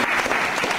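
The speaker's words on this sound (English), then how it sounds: "Give him a cheer." Audience at Salford Lads Club cheering and clapping for Mark E. Smith during a live radio interview, a brief dense burst of applause filling the room.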